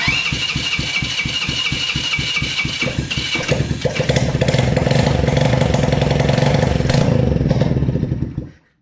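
A newly fitted quad bike engine cranks with rapid rhythmic clatter, catches and runs loud and close at a rough idle for several seconds before cutting off abruptly.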